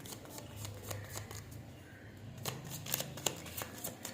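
Tarot cards riffle and snap in a quick series of crisp, close shuffling bursts, with a few sharper slaps as cards are drawn and laid down near the end; no one speaks.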